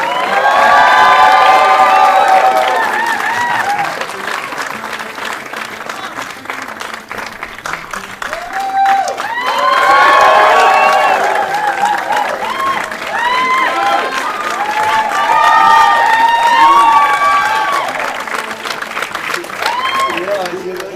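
A crowd at a Survivor-style Tribal Council cheers, whoops and applauds as the final three walk in, loud waves of clapping and shouting rising and falling for about twenty seconds, with children's voices among the cheers.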